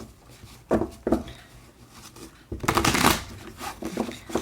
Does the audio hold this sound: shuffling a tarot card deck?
yes